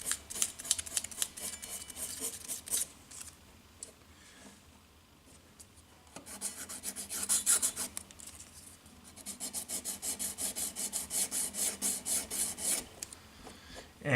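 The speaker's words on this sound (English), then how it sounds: "we can go in and polish the nut a little bit with this fine grit of sandpaper" Fine grit sandpaper rubs across the nut of a Tradition G10 Strat-style guitar in quick, rhythmic back-and-forth strokes, soft raspy bursts that pause briefly midway and then resume in a steady, close, quiet pattern.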